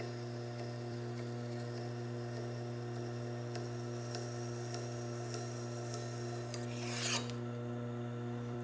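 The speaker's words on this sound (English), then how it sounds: "These low-speed grinders are real forgiving." Plane blade held against a slow-speed grinder wheel for sharpening, a steady humming drone with a faint continuous rasp, a brief louder scrape near the end, no talk.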